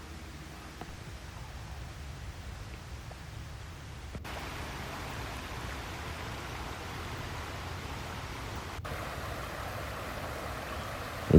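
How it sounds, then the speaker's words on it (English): Creek water flowing in Arroyo Seco in the Angeles National Forest, a faint, steady wash of hiss and low rumble that runs unbroken throughout, heard alone from some distance. "And you do get these nice sounds of the creek."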